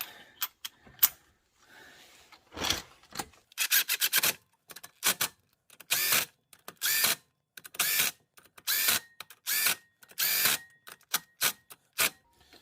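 An impact wrench on a low setting snugs up Honda flywheel bolts on a manual transmission, firing in a long series of short, sharp rattling bursts separated by brief pauses, close and loud.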